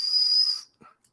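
A piercing, steady high whistle held for over half a second on a field audio recording, then cutting off into near silence with a faint brief sound after.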